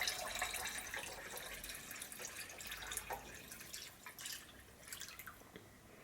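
Strong-smelling waxed oil cloth mixture is poured into a pot, giving a faint, steady liquid trickle with small dripping splashes and light clinks at irregular intervals.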